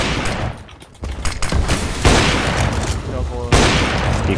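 Pistol-round gunfire in competitive CS:GO cracks out in several sharp bursts and single shots, loud and close, with game noise filling the gaps between them.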